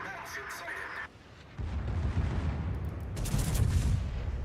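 Naval ship guns firing in World of Warships, a deep booming salvo rumble that swells in the second half and continues loud to the end after a brief quieter gap.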